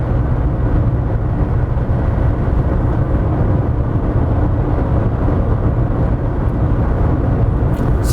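Citroen Xantia V6 engine accelerating, a loud, steady, deep drone with strong low rumble that holds constant throughout, heard from inside or close to the car with no talking.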